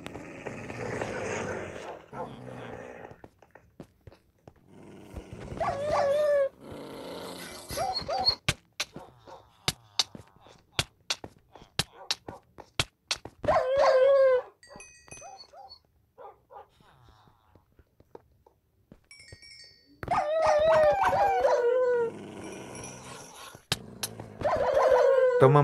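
Dogs in a video game bark in sharp repeated bursts, some clustered and some spaced out, with growls and pitched yelps mixed in, over quieter gaps.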